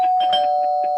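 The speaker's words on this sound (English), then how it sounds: "That's the doorbell." A doorbell chimes, a sustained bright ring held at steady volume through the moment, with faint background sounds around it and no speech.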